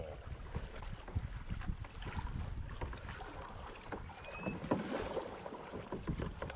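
Kayak paddle strokes splash and gurgle in lake water close by in Mexico, with wind buffeting the microphone and a few faint creaks.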